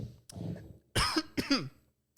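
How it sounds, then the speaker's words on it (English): Two or three sharp coughs burst out close to the microphone, with a brief low vocal sound just before them and silence between. "Just coughed, sorry"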